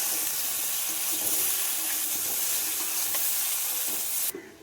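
Cauliflower and potato pieces with turmeric and salt are stirred in a hot pan, giving a steady loud sizzle and scraping that runs throughout before cutting off abruptly.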